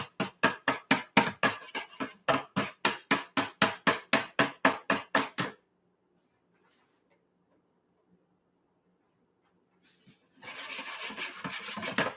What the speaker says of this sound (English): Use a whisk when combining everything together.